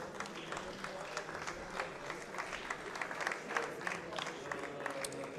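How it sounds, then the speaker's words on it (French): An audience at the Swiss Eurobot 2017 robotics competition applauds two robot teams after a round, with steady, dense clapping throughout and a few faint voices mixed in. "On peut applaudir les 2 équipes bien fort."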